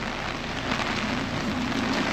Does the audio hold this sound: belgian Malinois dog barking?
no